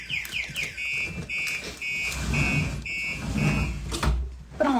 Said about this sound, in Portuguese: O alarme tá tocando aqui.